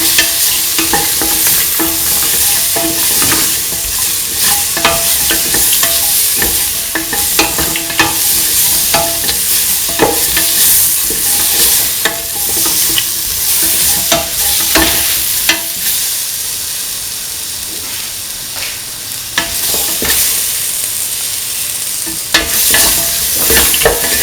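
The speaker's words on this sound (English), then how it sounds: "Mix thoroughly with the ingredients." Ingredients are stirred together in a cooking pan for a potato, ivy gourd and coconut milk stew with garam masala, with continuous scraping and sizzling and frequent sharp spoon clicks against the pan.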